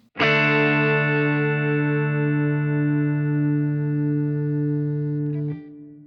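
A single sustained guitar chord through a Fractal Audio Axe-FX III compressor block at maximum compression rings out evenly with long, level sustain, then is abruptly cut off after about five seconds.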